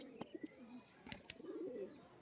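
Pigeons in a loft give faint, warbling coos and a few short chirps, with scattered light clicks and rustles between the calls.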